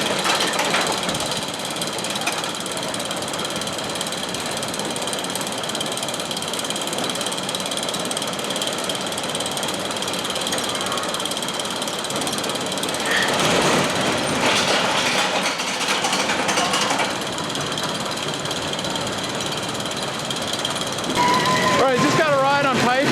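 The Python roller coaster chain lift at Coney Island in Cincinnati clatters and ratchets steadily throughout, swelling into a louder rumble partway through, with riders' voices mixed in.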